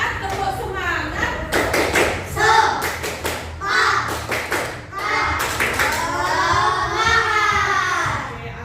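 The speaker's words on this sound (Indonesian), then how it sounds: "Oke, tepuk semangat dulu biar semangat" Classroom children doing a rhythmic spirit clap (tepuk semangat), with sharp bursts of clapping in patterned groups between chanted voices, close and lively throughout.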